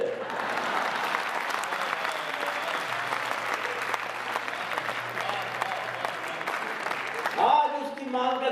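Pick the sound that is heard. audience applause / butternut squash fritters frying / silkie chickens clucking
audience applause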